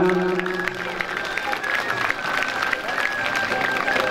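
Audience applause and crowd noise at a school stunt show with tile breaking, a continuous dense clapping wash with cheering, steady and fairly loud.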